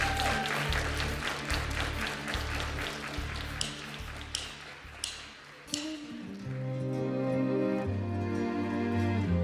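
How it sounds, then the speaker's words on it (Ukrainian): Audience applause welcoming a children's choir onto the stage at a televised Ukrainian singing contest final, loud clapping mixed with taps and sharp hits before music takes over. "Давайте зустрінемо їх оплесками."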